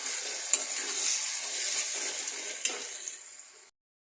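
Mustard greens (sarson ka saag) are stirred in a wok, giving a soft sizzle with scraping clinks of the spoon against the pan, close and moderate, before cutting to silence near the end.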